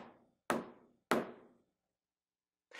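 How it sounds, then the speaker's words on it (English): Sharp knocks on a home's back door: two loud raps about half a second apart, each ringing out briefly, followed by a pause and the start of another knock, with no talking. "He's knocking on the door"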